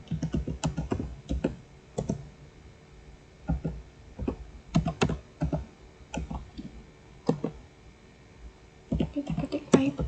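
Keys clatter on a computer keyboard as a Linux terminal command is typed, in irregular bursts of close, crisp clicks with short pauses between runs.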